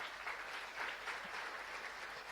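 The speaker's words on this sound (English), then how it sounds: "Can we give them a big round of applause?" Quiet, distant-sounding applause from the audience at a business summit, an even wash of many hands clapping that stays level for a couple of seconds.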